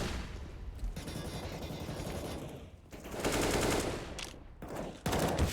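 Rapid bursts of automatic gunfire crackle in a CS:GO match on the Nuke map, loud close volleys broken by short pauses, with the shooting cut off sharply near the end.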